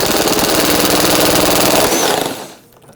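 Loud, dense power-tool rattle, likely an impact gun backing out a rusty, stuck 10mm bolt that holds the fender liner to the side skirt on a 2012-2017 Toyota Camry, running steadily then stopping abruptly near the end.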